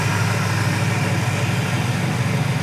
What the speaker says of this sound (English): Motor idle's super nice.